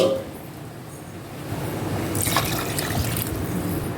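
Water poured into a pot while making chicken biryani, a steady close-up splashing and filling sound that grows fuller partway through, with no talking.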